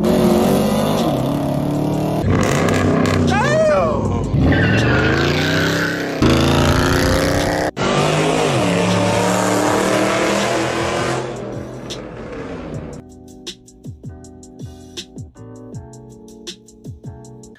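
A Dodge SRT8 launching on a 0-60 run, its loud engine climbing hard through rising revs with brief breaks at gear shifts, then easing to a lower idle-like drone near the end.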